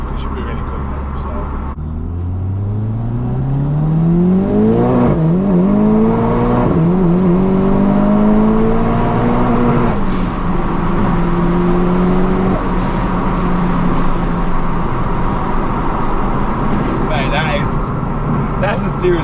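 A 750 bhp four-wheel-drive Seat Leon Cupra engine revs and accelerates hard, its pitch climbing through several gears, loud and close, with people talking over it.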